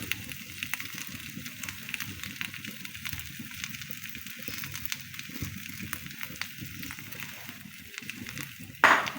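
Egg-coated chicken sprinkled with sesame seeds sizzles in a pan, a steady soft frying hiss with light crackles throughout, close and without talk, ending in a brief louder clatter.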